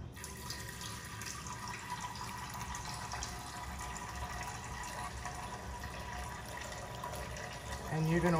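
Filtered water poured into a bowl of raw Irish sea moss, a steady soft splashing and trickling that stays faint and continuous, with a slight rise at the end.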